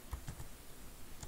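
Typing on a computer keyboard in the Vim editor, a few soft, close key taps in an irregular rhythm, faint and alone.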